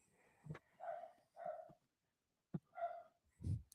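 A dog gives a series of short, muffled barks and huffs indoors, about six bursts spaced irregularly with a pause in the middle, fairly close but soft.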